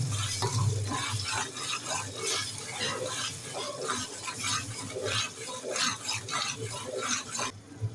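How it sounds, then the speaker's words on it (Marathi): Tomato puree with garlic, ginger and coriander sautés in a pan, giving a steady, close, broadband sizzle with soft stirring scrapes throughout and no talking. "आता हे मिळतं कच्चेपणा जाईपर्यंत परतून घेतो"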